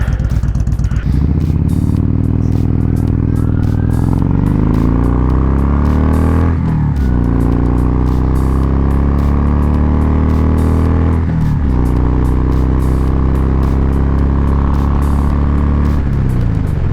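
Kawasaki Vulcan motorcycle fitted with a Sharkroad aftermarket exhaust, running loud and steady with deep, throaty rumbling and several rising revs, alone without talk throughout.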